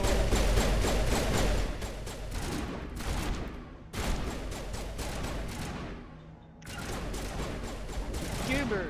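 Dense gunfire in the sci-fi shooter Mass Effect, a continuous loud rattle of rapid shots with short pauses, with a voice talking over the battle.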